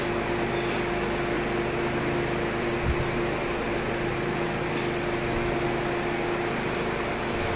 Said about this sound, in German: Die Kombination aus Spritzdüse und Ventilator sorgt für einen ganz feinen Wassernebel, der weit in den Boxenlaufstall hineingetragen wird.